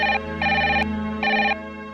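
A phone rings in three short electronic bursts separated by brief pauses, heard clearly over a low steady hum.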